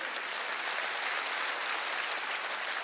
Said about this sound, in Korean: 박수를 쳐야 된다